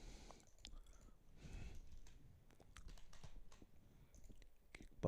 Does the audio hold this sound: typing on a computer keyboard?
yes